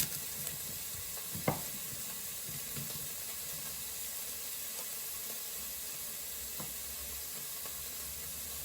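Three cloves of garlic sizzle in a pan while Mexican fiesta rice is cooked, a quiet steady frying hiss running throughout with a few soft clicks and knocks from a utensil.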